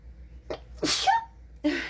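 A single sharp sneeze bursts out, preceded by a quick inhale, then a short vocal sound follows; close and fairly loud in an otherwise quiet room.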